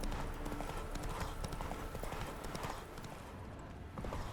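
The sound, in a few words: horse hooves walking in The Witcher 3 video game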